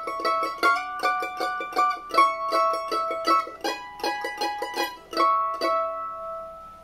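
Mandolin picking major-chord double stops high up the neck in quick tremolo-like bursts, bright ringing pairs of notes in a steady rhythm, close and clear with the final notes left to ring out, no voices.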